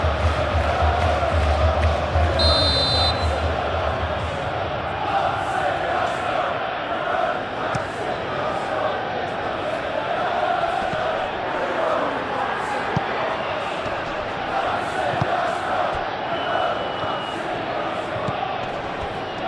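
Simulated stadium crowd in the football video game PES 21, a Crystal Palace vs Arsenal Premier League match, keeps up a steady, loud roar of annoyed murmuring throughout, with a brief whistle near the start.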